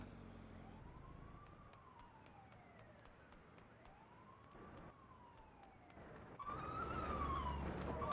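A police car siren in the video game GTA 2 rises and falls in slow, sweeping wails over a low engine drone, then the game sound grows louder and harsher near the end.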